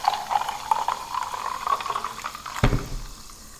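Soda water pours into a glass over muddled fruit in a home kitchen, a steady trickling fill with a rising pitch and fizzing bubbles, then a brief clunk near the end.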